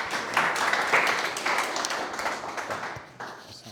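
A modest room of attendees at a startup pitch event claps, a dense burst of applause that peaks early and then thins out gradually over a few seconds.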